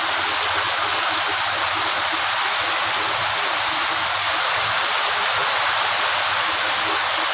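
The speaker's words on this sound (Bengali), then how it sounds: "আমাদের এই জায়গায় অনেক বৃষ্টি হচ্ছে।" Heavy rain pours in a dense, constant hiss with a steady rushing roar and no breaks, loud and close.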